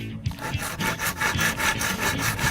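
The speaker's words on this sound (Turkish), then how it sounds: "Hadi o zaman bu ağacı keselim" A toy saw rasps against wood in a sandbox play scene, a close, rhythmic back-and-forth sawing of quick repeated strokes that runs steadily throughout.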